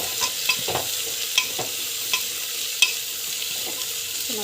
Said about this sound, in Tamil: வெஜிடபிள்ஸு எல்லாத்தையும் போட்டு இப்படி ஆட் பண்ணிங்கன்னா நல்லா வந்து வதக்கிடுவாங்க.